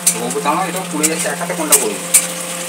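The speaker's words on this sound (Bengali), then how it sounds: "আর এই দেখো আমাদের রাত্রেবেলায় চিকেন রান্না হচ্ছে।" Chicken frying in a pan over a gas flame at night, a steady sizzle with a few sharp scraping clinks of a utensil, while someone talks over it.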